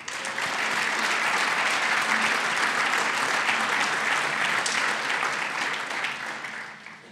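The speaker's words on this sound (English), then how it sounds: "Applause, please." Applause from the audience at the 2017 Paper Industry International Hall of Fame ceremony, sustained crowd clapping that holds steady and then tapers off toward the end.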